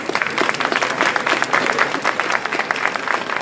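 A conference audience at a business-creation breakfast event applauds the speakers. The clapping is dense and steady, close and fairly loud, and runs without a break for a few seconds.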